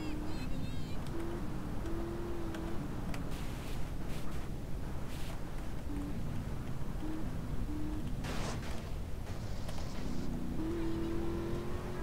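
A car driven fast in Grand Theft Auto: San Andreas, a steady engine roar running throughout with tonal horn-like blips and a few bursts of noise, loud and continuous.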